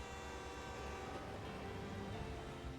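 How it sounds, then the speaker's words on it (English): A train approaches with a dense, continuous rumble and sustained tonal horn-like hum, loud and steady from start to end, no talk. "There's a train coming!"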